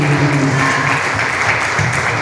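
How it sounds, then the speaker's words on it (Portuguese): A church congregation applauds together during a worship service, dense, sustained clapping that fills the room at an even, strong level with no talk over it. "Agora vamos toda a igreja a dar mais forte salva de palmas ao Senhor Jesus."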